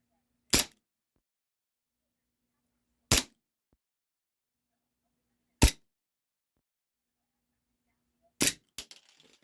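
Airsoft gas blowback pistol, an HFC DarkHawk 6mm firing steel and aluminum BBs at a target, cracks four sharp isolated shots spaced a few seconds apart, the last followed by quick small rattling clicks, with no talking.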